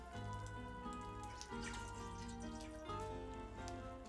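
Water trickles and drips softly onto freshly planted seeds in garden soil, with faint patter over a steady tonal hum in the background.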